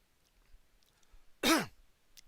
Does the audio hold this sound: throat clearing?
yes